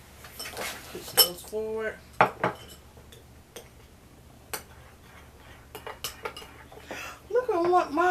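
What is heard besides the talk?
stirring glitter slime in a container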